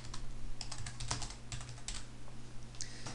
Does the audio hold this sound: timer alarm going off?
no